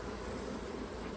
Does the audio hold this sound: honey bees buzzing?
yes